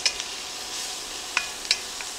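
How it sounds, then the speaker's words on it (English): Onions softening in a pot on the stove, a soft continuous sizzle punctuated by a few sharp clicks and scrapes of a utensil against the pot, close and quiet. "What we're going to do now is saute the onions down until they're nice and soft."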